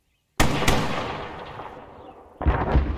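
A rocket launcher fires on a military training range with a sharp, loud blast that decays into a long rolling echo, followed by a second booming impact about two seconds later.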